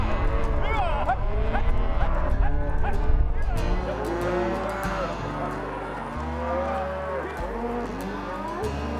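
Cattle on a Utah cattle drive low and moo repeatedly, overlapping bellows from a herd at varying distances over outdoor rumble, while people shout and call over them.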